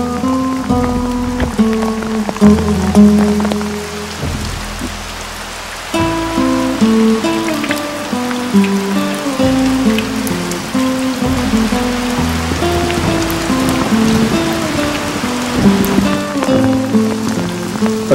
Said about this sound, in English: when it rained quite hard